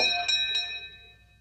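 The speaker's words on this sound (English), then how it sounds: "Doorbell." A doorbell rings in the movie Clue, two bright chime strikes close together over a quiet room, their tones ringing on and slowly fading.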